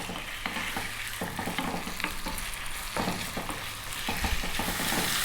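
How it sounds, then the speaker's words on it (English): Chicken fries in a pan over fairly high heat. A continuous sizzle runs under repeated spatula strokes that scrape and toss the pieces, close up and with no voices. "What we're going to do is we're going to fry this around for 3 to 4 minutes."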